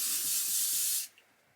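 Heat-protectant hair spray hisses from a can in one continuous close burst lasting about a second, then cuts off into near quiet.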